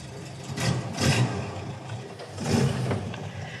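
A Renault 4L engine revs up twice, surging and easing off in broad swells of mid-range roar, fairly close and loud.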